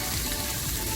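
Chilies sauté in a hot pan for Hunan chicken, giving a loud, dense, steady frying sizzle close up.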